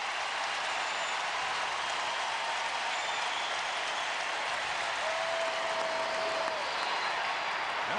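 A large baseball stadium crowd of nearly forty thousand applauds steadily, a dense wash of clapping that holds evenly throughout from a distance, with no talking over it.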